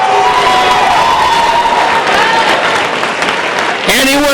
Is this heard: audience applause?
yes